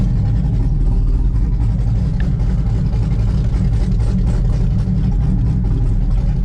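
A steady, deep engine rumble from a Camaro ZL1 with headers runs throughout, loud and close, with a constant low growl like a car idling with a throaty exhaust.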